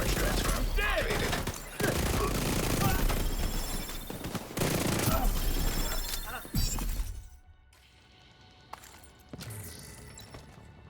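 Rapid video game gunfire rattles in dense automatic bursts with crashing impacts for most of the stretch, then drops away to quieter, sparser shots near the end.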